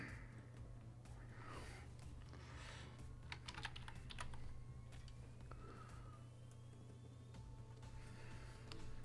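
Keys on a computer keyboard clatter in quick, uneven bursts of light clicks, densest near the middle, over a steady low background hum.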